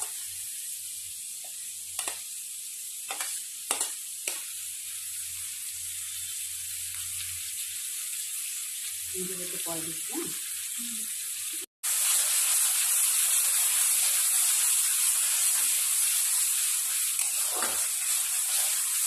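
Cumin paste goes into spices frying in a pan for a soybean curry, with a steady hiss, several quick spatula taps and a short wet splutter, then a sharp cut into a louder, brighter sizzle.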